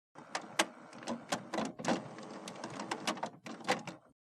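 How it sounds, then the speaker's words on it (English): HP Officejet 6700 Premium all-in-one printer powering on and resetting, with a run of mechanical clicks, whirs and clunks from its internals at close range, no talking. "Wait for the printer to turn on and stop making noise."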